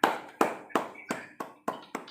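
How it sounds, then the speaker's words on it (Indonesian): Children at a school lesson clap their hands in seven crisp, evenly spaced claps in a steady rhythm, close and clear with no talk. "Tepuk tangannya."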